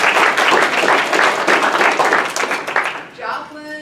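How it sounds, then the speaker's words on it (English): An audience at a speech competition claps together in a steady burst that fades out near the end, with voices mixed in. "Should we applaud everybody?"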